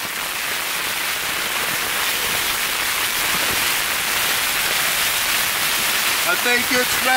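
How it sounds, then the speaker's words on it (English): Rain falls outdoors in the Bugaboos mountains as a dense, steady hiss that fills the whole stretch, with a voice speaking briefly near the end. "I think it's raining!"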